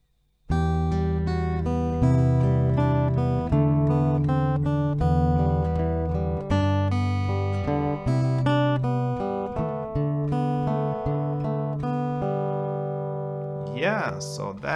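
Acoustic guitar picking a song melody at normal tempo, a brisk run of plucked notes played close and continuous, with a brief squeak or slide of fingers on strings near the end.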